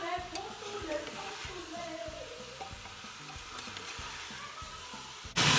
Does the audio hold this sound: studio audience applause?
no